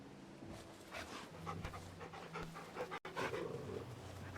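A dog pants rapidly and steadily in the Final Fantasy XVI video game, close and faint, with a brief dropout near the end.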